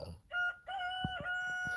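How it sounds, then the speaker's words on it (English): A rooster crows in a loud, clear, drawn-out call with sustained harmonic tones, heard alone up close outdoors, with a few soft low thumps underneath. "you hear him? As soon as they opened the door, he came out. That's the first time he crowed."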